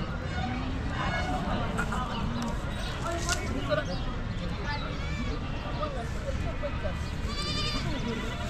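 Desi village goats, some with kids, bleat repeatedly at a livestock market, with many calls overlapping amid the constant babble of a crowd and people talking nearby.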